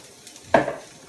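Cabbage dropping into a single big pot with hot sesame oil gives one brief, close burst of sizzle and stirring clatter, then fades quickly.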